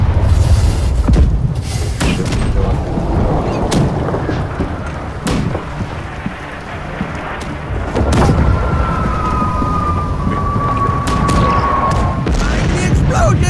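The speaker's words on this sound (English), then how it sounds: "The explosion!" Cannon fire in a Black Wake naval ship battle, several loud booms and sharp blasts scattered across a noisy battle din, with players talking over the action.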